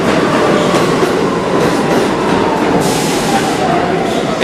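An R46 subway car on the Coney Island–bound F train rides the rails, with loud continuous rumble, rhythmic clickety-clack of wheels and brief squealing from inside the car.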